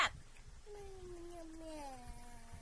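A child imitates a cat's meow, a drawn-out rising then falling vocal mew near the microphone, alone in a quiet room.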